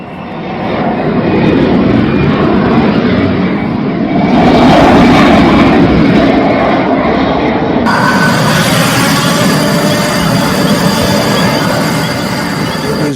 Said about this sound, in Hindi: देखिए कैसे अमेरिकी फाइटर जेट मिसाइल और रॉकेट दागने के बाद वापस लौट गए